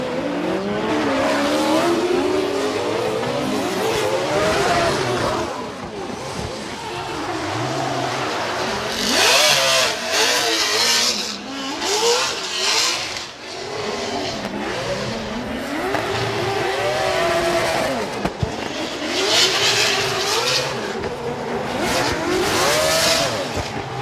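Drift car engine revving hard through a competition run at an FD Japan event at Ebisu, loud and continuous with rising and falling engine pitch, tire squeal and skidding throughout, no talk.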